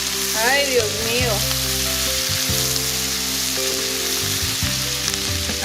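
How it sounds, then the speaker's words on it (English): Onions sizzling loudly in a pan right after chicken has been seared for lemon chicken, a dense continuous frying hiss close by, with a steady hum and faint voices underneath. "you've seared your chicken, you're going to add your onions"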